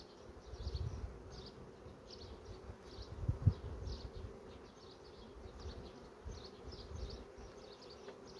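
Young honey bees buzz inside a hive, a faint continuous hum with soft pulsing swells and a couple of small knocks midway.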